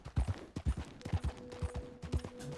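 Horse hooves clip-clop in a rhythmic series of loud, close steps in the Red Dead Redemption 2 video game, with a faint steady tone underneath and no talk.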